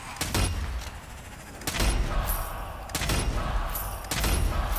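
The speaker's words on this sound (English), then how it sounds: "Headshot sound effect is very satisfying." Satisfying headshot gunfire from the video game Strange Brigade: several sharp broadband shots with heavy low thumps, spaced about a second apart, loud and close over a rumbling game backdrop.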